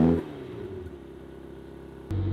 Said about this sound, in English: My favorite feature of this whole car is when you turn it on,